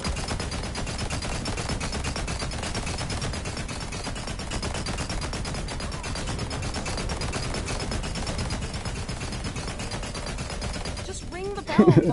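Continuous rapid gunfire from a gun in Borderlands 3 hammers on without pause for many seconds, close and loud, with a voice speaking over it.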